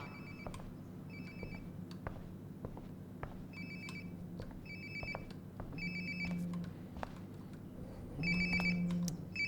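A mobile phone rings nearby in the video game Life is Strange: Before the Storm, its repeated electronic ringtone bursts sounding in a steady pattern over a low room hum, growing slightly louder toward the end.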